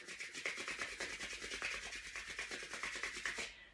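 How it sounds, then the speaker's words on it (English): Palms rubbing briskly together during a Kundalini yoga meditation, a close, rhythmic swishing friction repeated many times in quick succession before it stops abruptly, with no speech. "Rub your palms together, activating the nerve endings."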